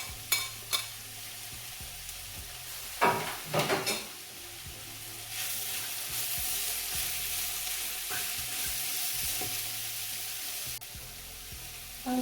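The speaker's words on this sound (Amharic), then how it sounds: "ካሮቱ ትንሽ እንደዚህ ከተቁላላ በኋላ እዚህ ጋር ያዘጋጀሁት ነጭ ሽንኩርትና ሴለሪ እሱንም አብሬ ጨምረዋለሁ።" Carrots sautéing with garlic and celery in a pan, a steady close sizzle with a few stirring scrapes and clatters early on, then a louder, even frying hiss that holds to the end.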